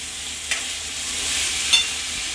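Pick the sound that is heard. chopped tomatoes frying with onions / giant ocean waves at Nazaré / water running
chopped tomatoes frying with onions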